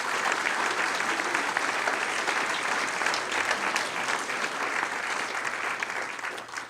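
Audience applause at the inauguration of Parc Louis-Riel / Marie-Anne-Gaboury in a small municipality, with sustained steady clapping from a crowd that holds at an even level throughout before fading slightly at the end.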